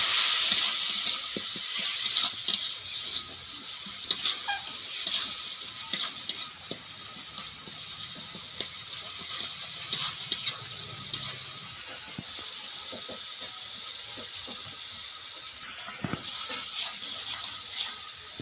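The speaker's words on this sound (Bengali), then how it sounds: "অল্প একটু জল দিয়ে দিচ্ছি। ভালো করে মশলাটাকে কষিয়ে নিচ্ছি।" Masala cooking down in a pan with a splash of water for a village-style singi fish curry, giving a steady low sizzle with intermittent scraping and clinks of the stirring spoon, no voices.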